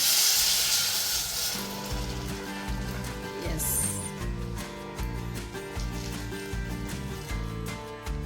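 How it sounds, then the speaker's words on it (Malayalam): Boiling water poured into a pan of fish curry sends up a brief, bright sizzling hiss, which fades after a second or so into a quieter, steady background. "നല്ല തിളച്ച വെള്ളമാണ് ഇതിലേക്ക് ഒഴിച്ചു കൊടുക്കുന്നത്."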